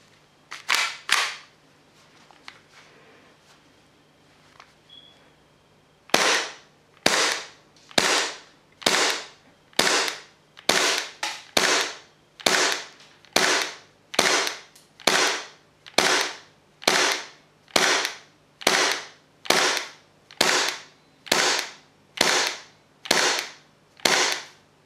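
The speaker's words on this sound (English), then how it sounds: "I have Abbey Predator 144A gas inside this pistol, not green gas" A Tokyo Marui FN 5-7 airsoft gas pistol charged with Abbey Predator 144A gas cracks out a few sharp shots, then, after a pause, a steady string of roughly twenty rapid, loud, evenly paced reports, with no voices.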